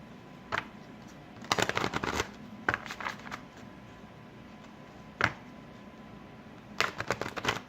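Tarot cards being shuffled for a love reading, heard as several short bursts of riffling and card slaps separated by quiet pauses, close and fairly loud against a faint room hum.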